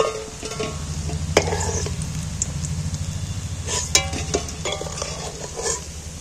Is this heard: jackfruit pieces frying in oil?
yes